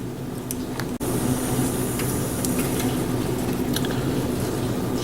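Steamed broccoli tossed into stir-fried beef in a thick sauce, a continuous close sizzle and soft stirring scrapes after a brief click, no talking.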